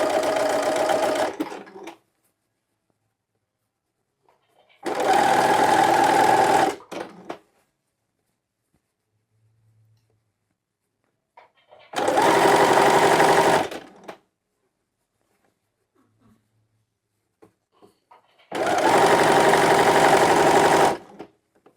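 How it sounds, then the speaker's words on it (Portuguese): A sewing machine runs in four evenly spaced bursts of rapid mechanical whirring while a child's pajama seam is folded and stitched, loud and close with silent gaps between runs. "é só ir dobrando e passando a costura"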